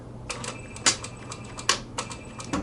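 A sewing machine stitches a new run on a pair of shorts, quick rattling bursts of needle strokes close by, starting and stopping in short runs with sharper clacks between them.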